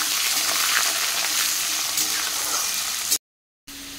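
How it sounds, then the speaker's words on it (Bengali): Potato pieces and peanuts fry to a reddish brown in a pan, giving a steady, close, crackling sizzle that breaks off for a moment near the end. "বাদাম আর আলু লাল লাল করে ভাজা হয়ে গেছে"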